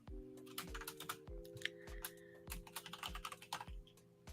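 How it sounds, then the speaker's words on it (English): Close, clicky typing on a computer keyboard, with quick irregular keystrokes and a few heavier key thumps running steadily throughout against a faint steady hum. "Typing."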